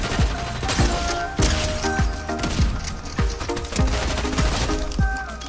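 Pistol shots in the video game Fortnite fire in a steady rhythm of about nine sharp reports, loud and close, each ringing briefly over busy game sound and music.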